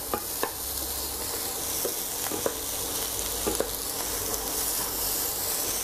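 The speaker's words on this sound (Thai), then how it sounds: "ค่อยๆผัดให้เข้ากันนะครับ" Mackerel fried rice with chili stir-fried in a pan, a continuous loud sizzle with intermittent scrapes and taps of the spatula against the pan, no talking.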